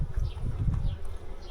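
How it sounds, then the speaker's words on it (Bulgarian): Honeybees in a full beehive super hum in a dense, continuous close-up drone with shifting pitch as individual bees fly near, no talking. "Магазина е пълен с пчели"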